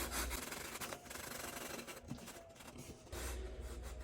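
A trowel scrapes excess deck mud off a shower pan, producing close, gritty rubbing and scraping strokes in uneven bursts with short pauses between them.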